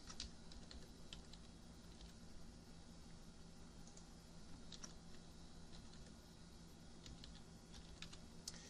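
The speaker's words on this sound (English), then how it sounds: "So we type in our 3 group names," Fingers type on a computer keyboard in a quiet room, light rapid key clicks in irregular bursts over a soft steady background hiss.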